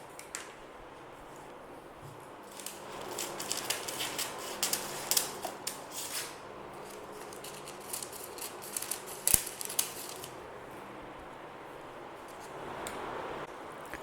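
Scissors snip parchment paper along the edges of a brownie tin, a series of crisp close cuts with short pauses between bursts, alone without talk.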